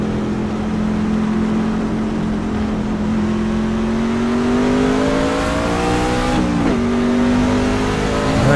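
Race truck engine in the iRacing game on a victory lap at Gateway Motorsports Park, a loud continuous drone that climbs in pitch, dips briefly, then holds steady.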